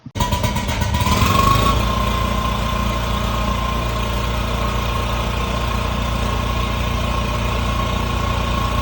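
A generator engine runs steadily at a work site, starting with a rising surge and then holding an even, loud drone with no talking.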